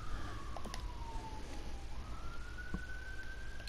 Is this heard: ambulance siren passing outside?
yes